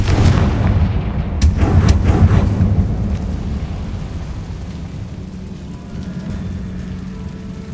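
Confringo blasting curse from Hogwarts Legacy, a cluster of sharp cracking blasts followed by a deep boom and a long rumbling, crackling decay that fades away.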